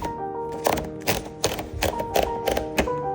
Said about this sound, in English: So let me go ahead and load paper